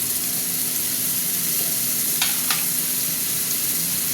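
Spice paste mixed with water fries in oil in a pan for a spicy Bombay duck (loitta) fish curry, a steady sizzling hiss with two brief sharp clinks near the middle, no voices.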